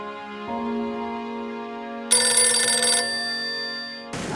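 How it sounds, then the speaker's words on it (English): Telephone ringtone for an incoming call, a bright electronic melody of sustained tones that steps up in pitch and brightness midway, heard clearly and alone. "I got a phone call."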